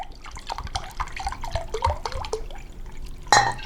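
Spring water pours into a cup with a light, trickling splash and scattered drips, ending in a brief louder gurgle as the pour finishes.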